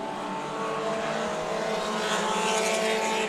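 Mini stock race trucks roar around the oval at Orange Show Speedway, a dense, steady engine drone from several vehicles at full throttle with no letup.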